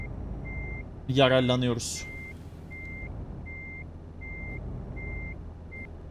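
A truck reversing in Euro Truck Simulator 2 gives a steady series of evenly spaced electronic beeps, moderately loud, while someone speaks briefly over the start and an engine hums low beneath.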